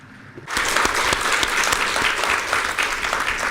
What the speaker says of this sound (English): Please give the two gentlemen a big round of applause.